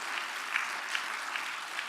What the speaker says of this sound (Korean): 우리 지휘자를 위해서도 박수 한번 해요.